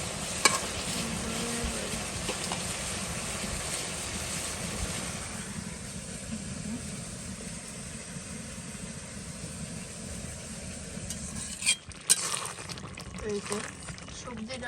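Fish added to vegetables frying in a pan keep up a steady, moderate sizzle with faint stirring scrapes, holding evenly for most of the stretch before a few louder clatters near the end.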